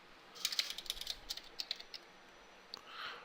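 Computer keyboard keys pressed in quick irregular bursts of light clicks, faint and close, followed by a pause and a soft rustle, with no talking.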